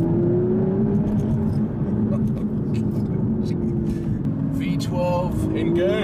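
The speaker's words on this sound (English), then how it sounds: "V12 engaged." An Aston Martin V12 Vantage S in sport mode hums steadily with a deep engine drone from inside the car, its pitch easing down then rising again toward the end, loud and close while someone talks over it.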